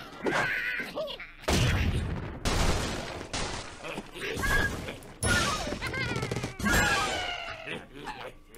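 Explosive bomb bird blasts smashing structures in the Angry Birds Seasons cherry blossom episode, a series of loud crashing bursts, thuds and crumbling debris in quick succession with game chimes, no talk.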